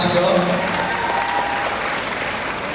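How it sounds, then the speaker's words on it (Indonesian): Audience applause at an Indonesian horror film press event: steady, dense clapping from a seated crowd that holds at an even level for about three seconds, with some voices mixed in. "Tepuk tangan dong."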